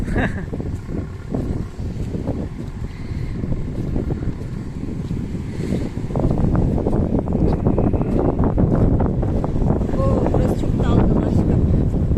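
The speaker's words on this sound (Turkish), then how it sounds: "Çok rüzgarlı burası." Steady wind buffeting the microphone at a coastal cove campsite near Bodrum, growing stronger and rougher partway through, with a voice faintly audible beneath the gusts.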